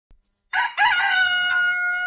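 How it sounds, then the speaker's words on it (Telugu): A rooster crows at dawn, one loud, close call that opens sharply and holds its drawn-out tone to the end, after a few faint sounds at the start. "తెల్లారింది. కోడి కూసింది."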